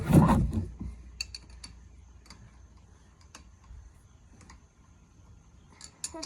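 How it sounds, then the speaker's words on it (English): A wrench works at a car's oil drain plug, opening with a loud close knock followed by sparse, sharp metallic clicks spaced irregularly over a quiet background, without talk. "Let's loosen up the drain."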